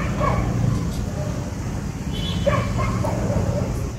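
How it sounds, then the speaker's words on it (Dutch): Dogs bark and yip in a Kathmandu street at night, with several short barks scattered across a steady murmur of voices and distant traffic. "Want 's nachts zijn het de honden die regeren over de straat."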